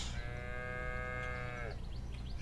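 A cow in the Viking village-building game Land Of The Vikings lets out one long, sustained moo, close and clear, that bends downward at the end over a steady ambient game backdrop.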